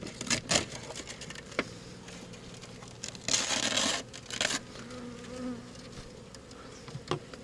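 Honey bees buzz steadily around a bee package during installation, a continuous close hum of many insects, broken by a few sharp clicks and a louder rustling crinkle in the middle.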